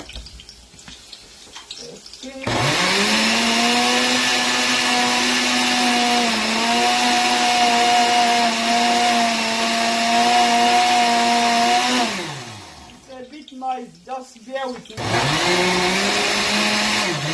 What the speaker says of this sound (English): So now I'll cover it for now and blend.